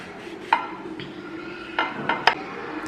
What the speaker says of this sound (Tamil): இப்போ நம்மளோட கொரியன் ஸ்ட்ரீட் சாண்ட்விச்சை கட் பண்ணிடலாம்.